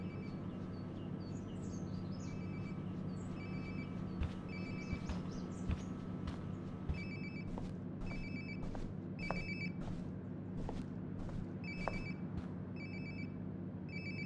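A cell phone rings in the video game Life Is Strange: Before The Storm, sounding as a repeating electronic ring pattern in regular bursts over a steady low background hum.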